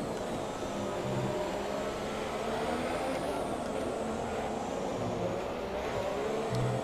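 Formula 1 cars race in the F1 2017 video game on PlayStation 5, a continuous loud engine drone with shifting pitch as cars run close together, alone and steady throughout.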